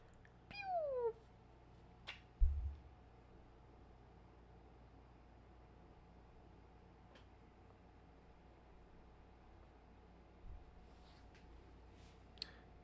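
A pet cat gives a single short meow near the start, followed by a faint click and long stretches of quiet room noise.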